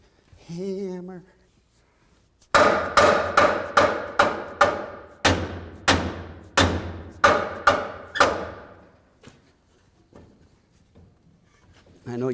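A hammer strikes the front crossmember of a 1932 Ford Model B pickup, a run of about a dozen sharp, ringing metallic blows in steady rhythm, close and loud, with a short voice before and a few faint taps after.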